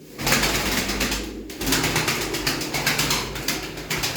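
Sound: tumbler pigeons cooing

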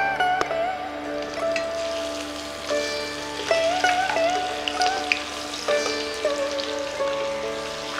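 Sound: fish frying in mustard oil

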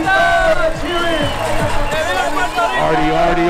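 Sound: parade crowd applauding and cheering

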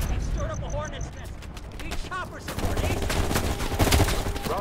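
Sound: gunfire in a firefight, from the video game Call of Duty: Black Ops Cold War

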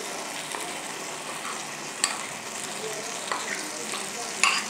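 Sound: coconut paste being stirred and frying in a pan

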